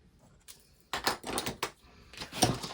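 Material for a handmade journal cover being cut, giving a few close, rough scraping and crunching bursts in quick succession, with short pauses between them.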